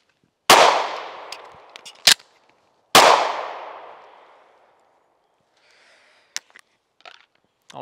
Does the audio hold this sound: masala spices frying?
no